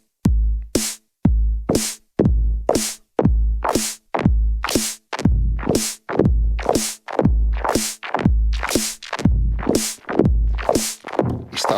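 A programmed kick and snare pattern runs through a Quantum Delay effect, producing a steady stream of regular hits with echoing repeats that pile up and smear as the beat continues, alone with no talk.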